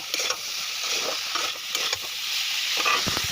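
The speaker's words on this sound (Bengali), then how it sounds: "ফুলকপি আলু ভাজা বসিয়ে দিচ্ছি আমরা" Cauliflower and potato fry and are stirred in a hot wok, a close, continuous sizzle broken by repeated scraping strokes of the spatula, with no talk.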